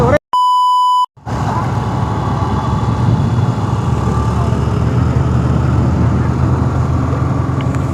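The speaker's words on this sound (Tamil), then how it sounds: "இனி ஃபுல்லாக பீப் சவுண்டாக தான் வரப்போகுது வீடியோ ஃபுல்லாக" A short, loud, pure censor beep tone lasts just under a second, then cuts to a steady roar of wind and road noise from a motorcycle ride.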